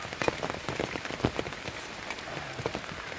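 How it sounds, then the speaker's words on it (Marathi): Raindrops patter irregularly on a nearby surface at a lakeside in the rain, with scattered sharper drips over a soft, steady wash of rain. "वरनं पावसाचे थेंब पडते त्याच्यात"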